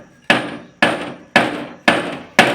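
A hammer strikes metal five times at an even pace while a tractor fan is being fitted, each loud close clang ringing briefly before the next blow.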